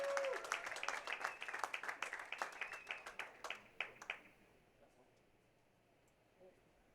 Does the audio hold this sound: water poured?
no